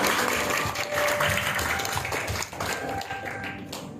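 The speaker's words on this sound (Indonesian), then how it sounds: "kita tepuk tangan buat Tuhan kita" An audience at a Christmas celebration and hospital anniversary event claps for God, a dense continuous wash of clapping and tapping that holds steady and close throughout.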